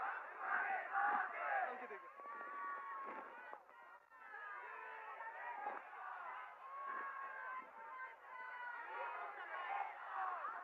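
A large crowd of Mumbai residents gathered at a political rally at Shivtirth in Dadar makes a continuous roar of shouting and chanting voices, rising and falling in waves, loud and sustained throughout.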